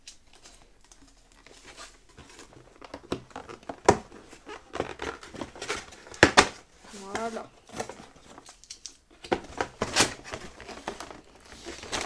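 Plastic packaging of a home-delivered wound-care dressing set is torn and crinkled open by hand, giving irregular bursts of rustling and ripping close by, with a person talking in between.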